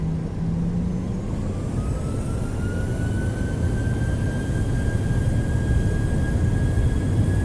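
A Southwest Airlines Boeing 737-700 spools its jet engines to takeoff thrust, heard from the cabin. A steady, heavy roar fills the cabin, and a high turbine whine climbs slowly in pitch over it.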